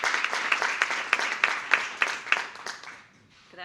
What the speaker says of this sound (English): Please give Dr. Bency a round of applause as she comes and speaks today.